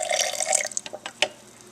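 Leftover cooking water from boiled peas is poured out in a kitchen: a brief, close splashing stream, then a few scattered drips.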